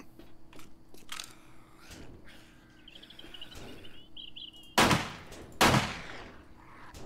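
Gunfire at a zombie in the survival video game 7 Days to Die: two loud, sharp shots a moment apart ring out over quieter in-game ambience and faint rustling.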